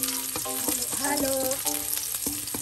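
Sautéed mung beans being stirred in a frying pan with oil, a steady sizzle broken by scraping spoon strokes and brief clinks, with a faint tonal hum in the background.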